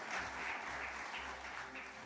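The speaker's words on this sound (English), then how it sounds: "Let's have a round of applause for sir here." A dense wash of audience applause at a talk by the Director of IIM Ahmedabad, many hands clapping steadily at moderate volume without pause.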